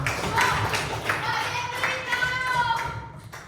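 Steady applause from an audience at a health education talk, a dense patter of clapping hands that holds for a few seconds before tapering off at the end.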